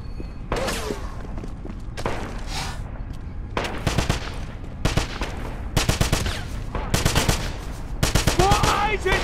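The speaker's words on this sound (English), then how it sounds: "Suppressing fire! I'm pinned down! I'm pinned down!" Automatic suppressing gunfire in the World War II shooter Wolfenstein, set in a church: repeated loud bursts of rapid machine-gun fire with short pauses between them, and shouted voices mixed among the shots.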